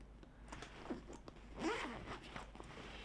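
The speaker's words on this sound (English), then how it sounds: "let's get into the inside. Unzipper." A zipper on a Baggallini bag with a silver engraved pull is drawn open in a few quick, close rasping strokes, with one louder scrape near the middle.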